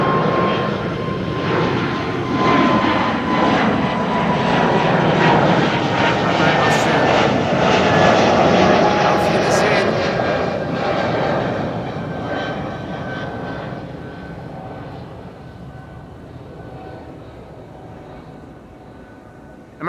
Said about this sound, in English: Austrian, in the meantime, is taking off to Vienna from 18 left.